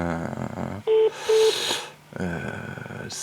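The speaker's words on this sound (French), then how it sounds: "Ça, c'est une sonnerie d'occupation." Two short, steady telephone busy-signal beeps sound amid muffled line noise and other sounds on the call.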